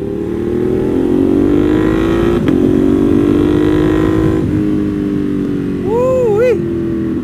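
A modified motorcycle engine drones steadily and close while being ridden, its pitch climbing slowly and then wavering in a quick rev near the end.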